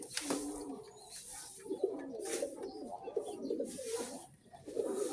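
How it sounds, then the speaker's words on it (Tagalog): Racing pigeon cooing close by in soft, repeated low throaty phrases, with faint background rustle and occasional higher chirps. "Bali itong kalapati natin ito, solo entry to."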